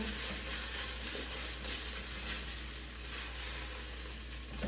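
Onions frying in a pot for sweet potato chocolate chili while being stirred, giving a steady, close, even sizzle and hiss that runs unbroken throughout.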